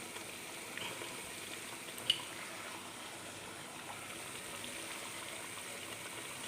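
Ground ginger paste and liquid poured into a simmering Kerala ginger curry, a soft continuous bubbling, sizzling wash with one small clink, quiet and steady.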